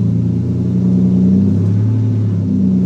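A Lamborghini Diablo's engine revs steadily on Angeles Crest Highway, a loud, sustained low-pitched roar with a smooth, continuous tone throughout and no talking over it.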